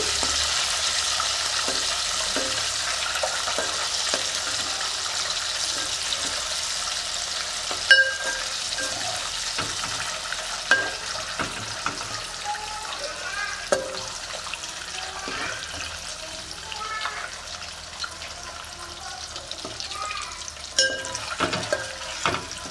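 Eggs frying in a pan with turmeric for a restaurant-style egg curry give a continuous close sizzle, broken by scattered clicks and sharper clatters of the pan or spatula, with no talking.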